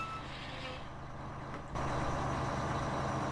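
A Kenworth 521 stretch-frame truck in American Truck Simulator runs in reverse with a steady engine drone, and the rumble grows louder and fuller midway as the throttle opens.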